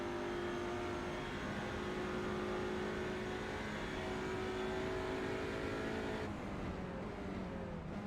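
A front-wheel drive TCR race car engine drones steadily at high revs at Road America, a sustained buzzing whine that shifts pitch as it changes gear near the end.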